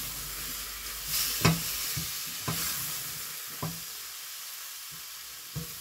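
Mixed summer vegetables simmer and sizzle in tomato juice in a pan for a vegetable curry, a soft steady sizzle punctuated by four or five distinct spoon stirs and scrapes, close and moderately loud.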